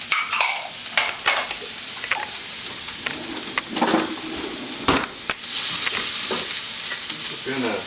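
Garlic and ginger sizzle with bok choy in a pan, a loud close crackle broken by stirring scrapes and clinks, with a brighter hiss building toward the end.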